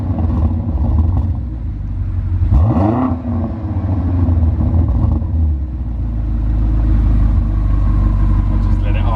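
AC Schnitzer-tuned 2019 BMW M5 Competition, 720 bhp, cranks and fires with a sharp rev flare, then settles into a deep rumbling idle that builds again, loud and close with a voice heard faintly.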